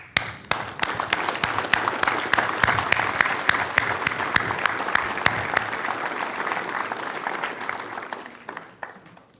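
Audience at a Veterans Day service applauding family members of military veterans, a full steady round of clapping from a crowd that swells quickly and tapers off near the end.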